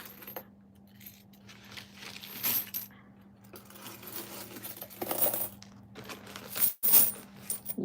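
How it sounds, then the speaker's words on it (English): Coins drop and clink into a growing pile, scattered metallic jingles and clatters coming in bursts, fairly close and at modest volume with no talking over them. "Lots of coins."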